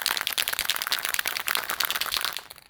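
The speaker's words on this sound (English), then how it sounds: "Make sure you shake the hell out of it" Rapid rattling and clacking from a shaken spray paint can, a dense continuous burst of metallic shakes lasting a few seconds, close by.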